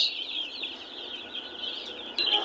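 A flock of Noiler and broiler chickens (Arbor Acres and Ross 308), nine days old, clucks and chirps continuously in a shrill, busy chorus, with a brief flutter of wings near the end.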